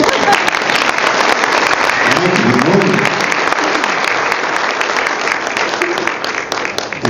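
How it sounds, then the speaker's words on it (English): An audience gives a loud, sustained round of applause for guest speaker Gov Hutchinson at a realtors' event, the dense clapping filling the room for about seven seconds and tapering slightly near the end. "round of applause for our amazing guest speaker today, not the governor, but Gov Hutchinson."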